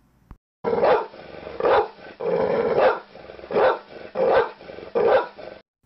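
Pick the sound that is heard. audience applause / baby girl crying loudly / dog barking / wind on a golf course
dog barking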